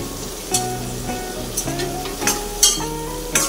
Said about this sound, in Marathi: हे मिश्रण एकजीव करून घ्यायचं आहे।